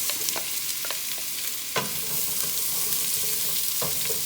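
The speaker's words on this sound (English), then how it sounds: "Butter is melted. Now we're gonna add in all of our vegetables." Vegetables sizzle in melted butter in a pot for a beef stew, a steady close frying hiss with scattered crackles and a few sharp clinks from stirring, no voices.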